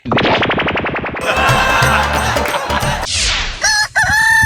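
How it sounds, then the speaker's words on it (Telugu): A rooster crows loudly up close, its call rising and trailing off, following a burst of rapid rhythmic rattling and clattering noise. "ఏమే కోడి కూసిందిలే"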